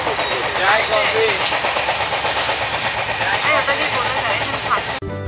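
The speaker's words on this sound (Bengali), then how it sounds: "এখন বোলপুর থেকে আমরা ছেড়ে চলেছি" The Saraighat Express pulling out of Bolpur station, heard from on board: a continuous rolling rumble with clattering wheels and faint background voices, ending in a brief jolt.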